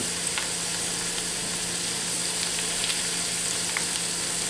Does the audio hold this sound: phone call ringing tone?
no